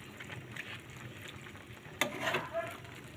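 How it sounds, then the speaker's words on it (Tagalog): Pork adobo gets stirred in a pot as it boils, with faint bubbling and a quiet sizzle. A sudden scrape of the spoon against the pot cuts in partway through. "Ayan guys, kumukuloy na siya. Ayan, haluin natin."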